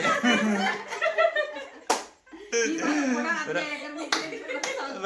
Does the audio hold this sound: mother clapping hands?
yes